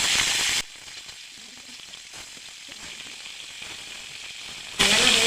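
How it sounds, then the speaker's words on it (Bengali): Steady hissing sizzle of chicken frying in hot oil in a wok, louder at the start and end with a softer crackle in between. "মাংস কড়াইতে তেল দিয়ে দিলাম আমি"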